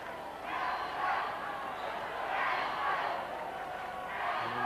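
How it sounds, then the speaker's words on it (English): Crowd noise at the 1987 Rugby World Cup final between England and Australia, a steady broad roar with gentle surges that rolls on throughout, loud and distant across the stadium. "And the crowd doing their best to getting them going"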